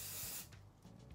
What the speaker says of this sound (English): So I want to put ample spray